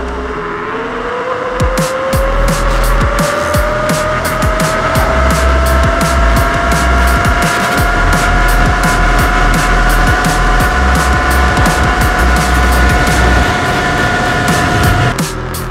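A rising electric whine from a Kaabo Wolf King GT Pro scooter at top speed climbs steadily in pitch over rushing wind and road noise, sustained at speed for the whole stretch.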